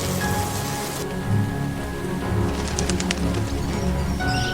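Steady rain with wind pours down around an apartment's outdoor air-conditioner unit where kestrels nest, a continuous close hiss with faint bird calls mixed in.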